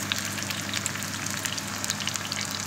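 Cauliflower frying in hot oil in a deep pot gives a dense, even sizzle with fine crackles throughout, steady and unaccompanied by speech.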